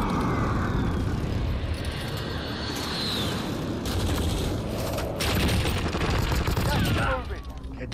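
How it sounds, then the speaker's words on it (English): A precision airstrike in a battle-royale shooter game sets off a dense, continuous barrage of rumbling explosions and crackling fire, loud and sustained, with aircraft noise overhead and a sharp burst near the end. "Precision airstrike, take cover!"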